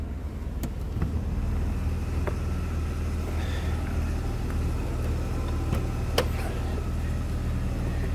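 Low, steady engine hum from a 1999 BMW M3 convertible running smoothly at idle, fairly quiet and even throughout with a few faint clicks and small ambient noises.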